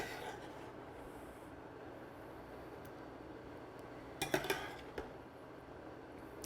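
A spoon loads meatballs and vegetables into a bowl in a quiet kitchen, with soft scraping under low background hiss and a short cluster of sharp clinks near the end.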